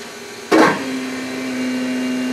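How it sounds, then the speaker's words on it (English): An Injector Dynamics brushless fuel pump in a car starts up when the key is turned on, with a sudden onset followed by a steady, close, continuous hum. "That noise you hear right there is the brushless pump running."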